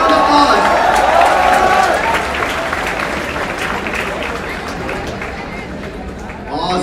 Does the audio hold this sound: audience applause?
yes